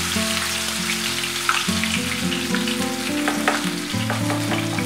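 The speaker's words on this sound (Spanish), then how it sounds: "ir dosificando las tortillitas en la sartén, estirándolas al mismo tiempo que se volcan" Beer-battered shrimp fritters from Cádiz fry in a pan of hot oil, a loud, close, steady crackle and sizzle with faint utensil scrapes and no talking.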